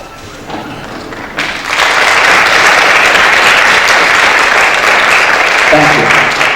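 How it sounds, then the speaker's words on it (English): A crowd breaks into sustained applause, many hands clapping steadily and loudly in a large room after a brief quieter start. "give a round of applause to those here supporting you this evening"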